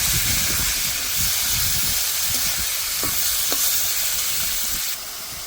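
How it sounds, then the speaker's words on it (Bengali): Prawns fry in hot oil for a Bengali malai curry, giving a loud, continuous close hiss and sizzle with occasional stirring scrapes; the sizzle drops slightly near the end, and no one speaks. "এবার ভালো করে মাছগুলো ভেজে নেব"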